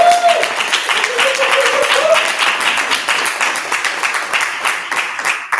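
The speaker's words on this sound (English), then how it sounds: "Let's give our candidates a big round of applause." An audience at a campus pageant and speak-out event applauds the candidates, dense steady clapping sustained throughout, close and loud, with faint voices mixed in underneath.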